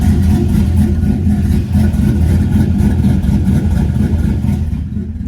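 A truck engine fitted with an aggressive cam runs a choppy, loping idle up close, its steady loud low rumble pulsing unevenly with no talk over it.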